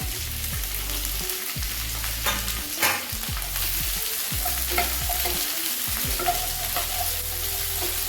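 Small onions and chillies sizzle and fry in a pan for a country chicken fry, a steady loud crackle broken by repeated scraping stirs of a spoon against the pan.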